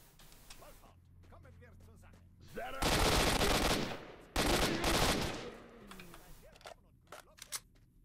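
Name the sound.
gunfire in the video game S.T.A.L.K.E.R. Shadow of Chernobyl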